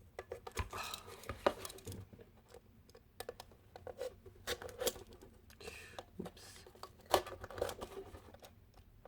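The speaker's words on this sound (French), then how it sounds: "On vient donc découper sur la marque qu'on avait faite" A Pringles can is cut along a marked line, giving irregular small snips, clicks and crinkles at close range, fairly quiet and scattered throughout.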